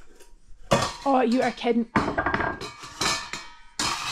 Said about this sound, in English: She knows the sound of her bowl.